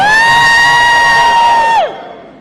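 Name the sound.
crowd screaming on request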